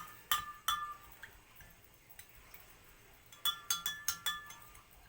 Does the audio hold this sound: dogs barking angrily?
no